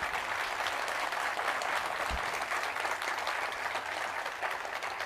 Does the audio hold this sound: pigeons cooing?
no